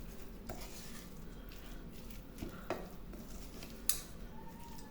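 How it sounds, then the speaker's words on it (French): Chopped rice vermicelli and other food get stirred in a dish, giving quiet scraping and clinking of a utensil with a couple of sharper knocks, recorded close and soft. "Je mélange bien."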